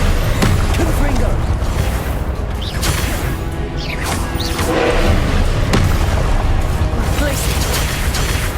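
Loud, repeated Confringo spell blasts in the video game Hogwarts Legacy land as heavy booms and crashing bursts, with whooshes between hits in dense combat noise; a voice speaks over the fighting.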